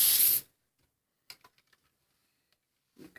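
One short, close hissing spritz from a spray bottle onto a fabric pillowcase being ironed, then near silence broken by a few faint taps and clicks.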